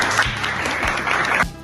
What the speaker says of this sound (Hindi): ताली बजा दो इसके लिए सब कुछ।